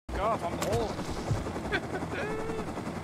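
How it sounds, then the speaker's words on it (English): Helicopter in a survival shooter video game, a dense continuous rotor and engine drone with sharp gunfire-like bursts and whooshing sweeps layered over it, loud and close. "Helicopter."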